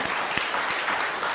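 An audience claps together in a meditation talk hall, a dense, steady wash of applause close by, with no voices over it.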